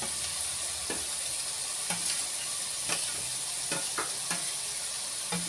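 Onion, garlic and cumin paste sizzles steadily in a hot pan, with repeated soft stirring scrapes every second or so, close and continuous with no talking.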